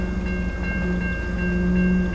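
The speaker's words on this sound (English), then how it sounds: "Very old-fashioned crossings in Victoria. Where's the train?" Rail noise at an old-fashioned level crossing in Victoria, a steady loud rumble with a sustained tonal hum, close by and without talking.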